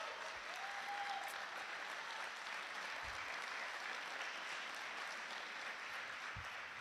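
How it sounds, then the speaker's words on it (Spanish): Steady applause from a church congregation, a continuous wash of clapping from many hands at a fairly distant, even level with no talking over it. "Dele un aplauso al Señor"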